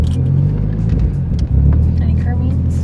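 A modified Mitsubishi Evo 10 with a 550 whp build, air suspension and widebody kit idles with a loud, steady, deep rumble. The low drone is up close and continuous, with faint voices in the background.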